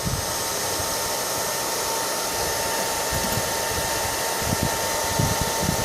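A hot air gun heats a hardened-grease bearing on a vintage Teac A-4010S reel-to-reel deck, producing a continuous, even blowing roar throughout with no talking.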